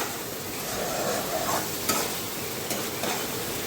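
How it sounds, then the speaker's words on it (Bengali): Chicken curry frying in a pan as a spoon stirs it, a steady soft sizzle with a few brief scrapes and clinks of the utensil. "তো এটা তরকারিটা কষতে থাকুক ততক্ষণ।"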